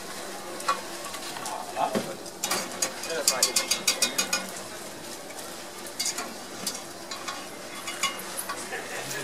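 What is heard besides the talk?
churros frying in deep fryer oil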